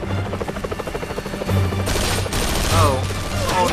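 Rapid bursts of gunfire in Metal Gear Solid V crackle in dense volleys with a helicopter drone underneath, loud and continuous, with a few brief electronic chirps.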